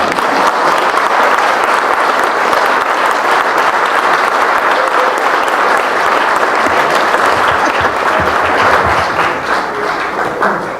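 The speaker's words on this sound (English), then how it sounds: "I knew you heard that in the back when I heard the clapping" Steady, loud audience clapping after a performance at a storytelling slam, a dense sustained ovation filling the room for about ten seconds with no talk over it.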